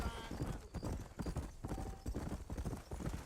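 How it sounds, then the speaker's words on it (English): Horse hooves clip-clop in a steady galloping rhythm in the Western video game Red Dead Redemption, loud and close, with someone talking over the hoofbeats. "Spur your horse."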